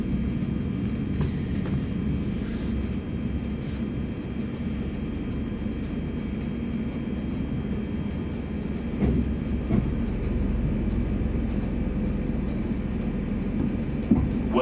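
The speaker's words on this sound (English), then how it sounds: "We're now approaching Scarborough, where this service terminates." Low, steady rumble of a train rolling along the rails as it arrives at Scarborough station, with faint clicks and squeaks as it slows, no voices.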